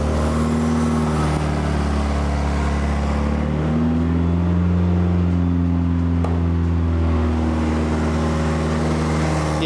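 A Honda CRX race car engine running loud and close, a steady rumbling idle whose pitch shifts partway through as it revs.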